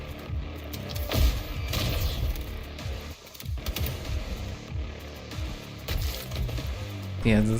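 Enemy gunners in the video game REPLACED fire bursts of rapid shots and booms among other game effects, loud and irregular, with someone talking over parts of it.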